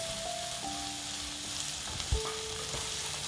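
Onions and tomatoes sautéing in a pan for rava kichadi, a steady close sizzle with faint scrapes and one brief knock partway through, no voices.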